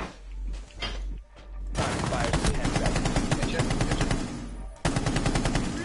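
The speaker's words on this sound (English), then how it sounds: "I shot him so many times in the face" Rapid automatic gunfire in the video game Rainbow Six Siege, with a long, loud, close burst of shots in fast steady rhythm, preceded by a few scattered shots and a brief pause before firing resumes.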